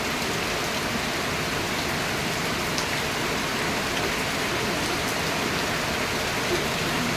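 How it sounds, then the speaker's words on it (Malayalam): Heavy rain pours steadily outdoors, a dense, even roar of drops striking surfaces with no pauses across the whole stretch, fairly close and loud, with no voices. "നല്ല മഴ പെയ്തുകൊണ്ടിരിക്കുകയാണ്."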